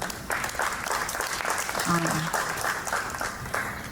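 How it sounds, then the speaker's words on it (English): Steady audience applause at a Juneteenth summer series gathering, dense and even for the whole stretch with voices mingling underneath. "So clap it up for yourselves."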